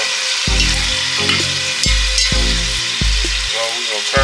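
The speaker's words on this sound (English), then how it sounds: "So we're going to turn them on this side to sear." Birria meat sears in a hot pan with a loud, steady sizzle, broken by repeated low thumps and scrapes as pieces are set down and moved.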